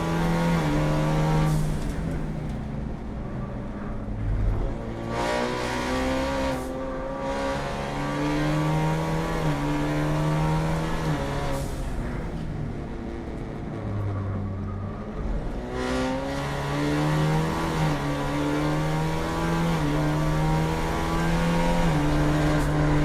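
Race car engine at Circuit of the Americas in a GLTC race, heard from onboard as a loud continuous roar with rising and falling pitch through repeated throttle and shift cycles, steady throughout with no talk.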